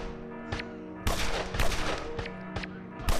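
Bursts of gunfire from the video game Evil Genius, sharp clustered volleys beginning around the half-second mark and recurring through the clip, loud and close, with no speech over them.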